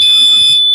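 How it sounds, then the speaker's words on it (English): A fire alarm repeater panel buzzer, part of a Morley IAS Apollo/Nittan setup, sounds a steady, clean, high-pitched electronic tone. It is loud and close, holds unbroken for most of a second and then cuts off. "The buzzer sounds too clean to be a Morley."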